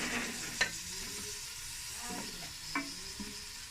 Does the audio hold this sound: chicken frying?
yes